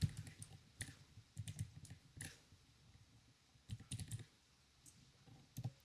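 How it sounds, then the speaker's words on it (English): Faint, irregular clicks of a computer keyboard being typed on, arriving in short clustered bursts with brief pauses between them, heard alone with no talking. "just tap on enter on your keyboard"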